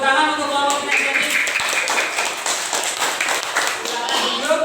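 A classroom applauds a student group after its presentation, a steady patter of many hands clapping close by with voices and chatter mixed in throughout.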